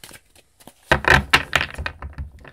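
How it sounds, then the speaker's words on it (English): Deck of tarot cards shuffled by hand, a quick burst of crisp riffling and flicking clicks after a near-silent start. "Let's do a quick shuffle."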